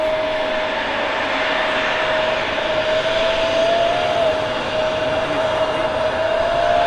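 Embraer jet engine roaring steadily at an airport, a constant broadband rush with a thin whine held throughout, loud and continuous with no break.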